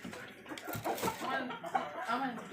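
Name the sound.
fighting rooster clucking while being fed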